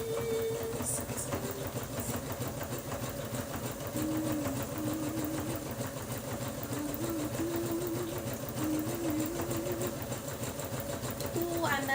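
A sewing machine runs steadily while stitching a seam on a beret, a continuous close mechanical whir with a fast rhythmic pulse. Music plays softly underneath throughout.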